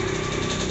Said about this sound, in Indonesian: Oke, itu motor Ninja lewat ya